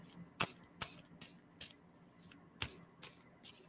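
Tarot cards shuffled by hand in short, sharp riffling bursts spaced unevenly, fairly quiet and close with a low background hum.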